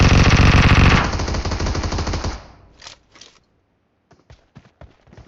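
Rapid automatic gunfire in the video game BGMI rattles loudly in a dense burst, then fades into a few scattered sharp shots and clicks.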